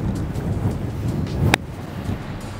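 Strong wind on a golf course buffeting the microphone as a continuous loud rumbling roar, with a sharp brief click partway through.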